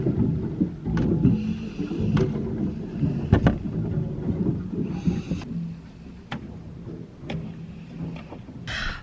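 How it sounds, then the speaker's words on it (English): Chunks of ice bang against the steel hull of a narrowboat on a frozen canal, heard from inside at the back of the boat as irregular sharp knocks over a low rumbling, scraping background. "it's so noisy down the back of the boat. It's like bang, bang on the side of the boat."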